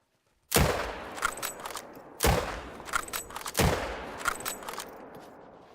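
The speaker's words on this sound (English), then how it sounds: "I am going to try to take a shot on him." Rifle shots at a sambar deer in theHunter: Call of the Wild: three sharp, loud reports spaced over a couple of seconds, each trailing off into a long rolling echo across open terrain.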